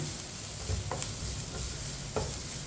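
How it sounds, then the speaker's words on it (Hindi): Onions sauté over medium heat while a spoon stirs them, a constant dense sizzle with a few soft scrapes and taps of the spoon against the pan, close and steady. "इसी तरह चम्मच चलाते हुए 2-3 मिनट के लिए पका लेना है।"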